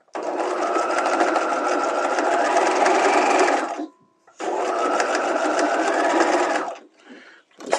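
A sewing machine runs in two sustained bursts stitching a half-inch neckline facing seam with back tacks, pausing briefly between runs, close and steady with no talking.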